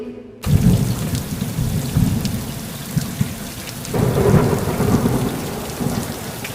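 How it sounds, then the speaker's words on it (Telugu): Heavy rain pours steadily with low rumbles of thunder rolling through it, growing stronger partway through. "ఆకాశం నుంచి బ్రహ్మాండమైన వర్షం కురిసింది"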